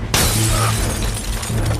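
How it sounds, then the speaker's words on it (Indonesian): A sudden loud crash as a car window's glass is smashed, followed by a dense wash of shattering and tinkling fragments that keeps going to the end. "Dongsul mencoba menahannya dengan memecahkan kaca jendela"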